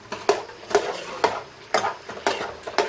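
A spoon stirring semolina halwa in a pan, giving regular scraping strokes roughly twice a second over a soft frying sizzle, close and moderately loud with no talking.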